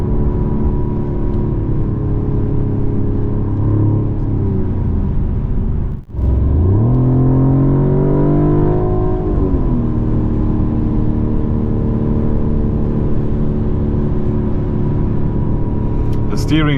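Engine of a 2024 Mercedes-Benz CLE 450 coupe heard from inside while driving in sport mode, a steady loud drone that dips briefly, then rises in pitch as it accelerates after a downshift into third gear.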